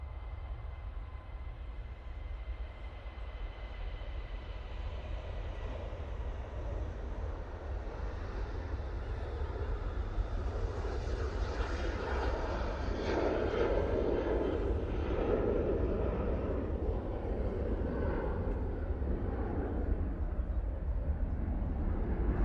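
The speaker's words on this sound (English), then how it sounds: "KLM 73 now on the roll. So we're going off to Amsterdam Schiphol." A KLM airliner bound for Amsterdam Schiphol rolls for takeoff at Manchester Airport, a distant, faint rumble that builds gradually and steadily with no talk over it.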